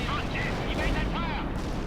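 In the World in Conflict war game, missiles strike tanks with a continuous heavy rumble of explosions and gunfire, loud and dense, with a voice talking over the barrage.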